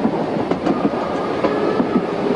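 A train runs on railway tracks, heard as a loud, steady rolling rumble with rhythmic clickety-clack beats from the wheels, close by and continuous throughout.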